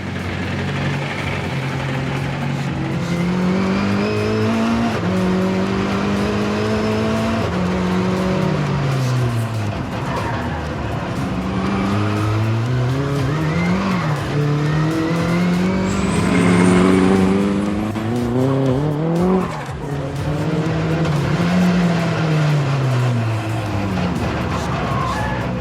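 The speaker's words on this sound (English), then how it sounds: "We think we've solved the flat shifting issue, so we should get some nice little pops now when we change gear." A 600bhp Mazda MX5 time attack car drives hard, its engine wailing up through the revs and dropping sharply on each flat-shift gear change with small pops, loud and continuous throughout.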